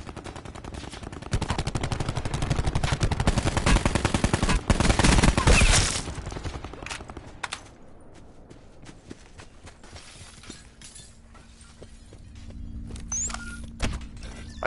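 Turret gunfire in a video game, a loud rapid burst of automatic shots for the first six seconds, then scattered distant shots and quieter game ambience.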